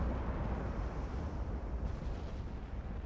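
Heavy naval shells striking a battleship in the naval warfare game Ultimate Admiral: Dreadnoughts, heard as a dense, continuous rumble of blasts and impacts that stays loud throughout with no clear gaps between hits.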